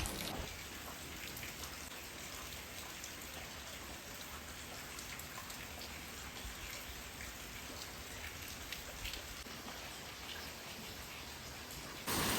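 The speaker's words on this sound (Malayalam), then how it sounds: "മഴ ചെറുതായിട്ടെങ്കിലും പെയ്തുകൊണ്ടിരിക്കുന്നുണ്ട്" Rain falls steadily in Kerala during a week of heavy monsoon weather, an even wash of drops on surfaces that holds constant throughout with no voices.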